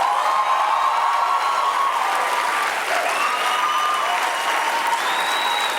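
A studio audience claps steadily and loudly throughout at a Quebec reality-show taping, dense and continuous with faint cheers mixed in.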